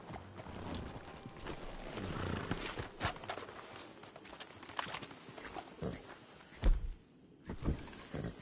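Horses' hooves clip-clop in Red Dead Redemption 2, an uneven series of close, moderately loud hoof strikes on the ground with scattered footstep-like thuds and no talk.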